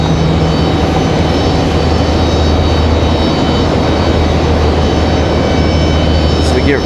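Regional CRJ jet engines rumble steadily at Raleigh-Durham International Airport, a continuous loud drone with a low hum, while a person talks briefly over it.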